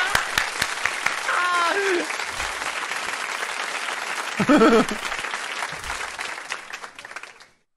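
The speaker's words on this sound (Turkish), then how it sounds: "Alkışlıyoruz." A group claps in sustained, dense applause. Brief voices and a short laugh break through midway before the clapping trails off.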